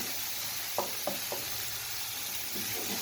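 Low, steady sizzle of a cheese roll omelette frying over a gentle low flame, with a few soft knocks and stirring scrapes of a utensil in the pan; no talking.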